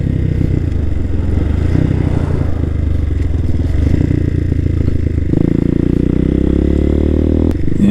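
A 2020 CSC TT250 motorcycle rides along a muddy road in an ORV area, its steady engine drone running close and loud throughout, shifting to a higher, smoother tone near the end with clatter from the bike.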